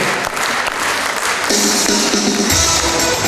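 Concert audience applauding steadily, a dense wash of hand claps filling the hall, with music or voices briefly surfacing over the clapping.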